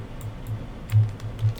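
Keys clatter on a computer keyboard as a formula is entered in Excel, a series of close, uneven taps at a quick pace over faint room noise.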